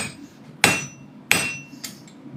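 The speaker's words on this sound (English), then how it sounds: "You hammer the screen, I hammer the steel." A hammer strikes steel three times at a steady pace, each blow a sharp close metallic clang with a ringing tail, the last one softer.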